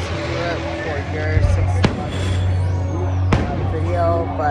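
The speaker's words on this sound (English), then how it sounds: "y'all get to continue watching more of the fireworks." Fireworks at Six Flags Fiesta Texas: two sharp, loud booms about a second and a half apart, heard over a steady hum of crowd noise and ambient sound.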